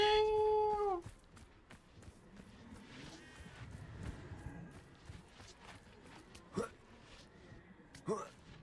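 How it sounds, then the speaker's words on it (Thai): Cats in the Hogwarts Legacy video game give a clear, drawn-out meow at the start, then fainter scattered mews and small game sounds follow beneath a steady background. "แมวเต็มเลย"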